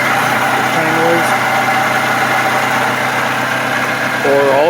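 A 2010-2017 Toyota Camry 2.5L four-cylinder engine idles steadily up close, with a continuous whirring, rotating mechanical drone from a noisy water pump running through the whole stretch.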